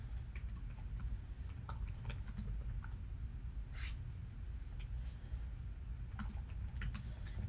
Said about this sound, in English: Sorry, I'm typing in our Discord here.